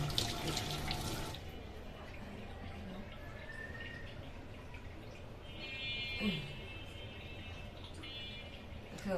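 A kitchen tap runs steadily while mangoes bought at the market are rinsed, making a continuous soft splashing wash with faint clinks and a brief tone in the background.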